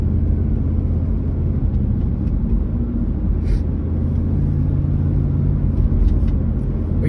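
A car drives along a road, a loud steady low rumble of engine and tyre noise from inside the cabin, unbroken throughout, with no talk.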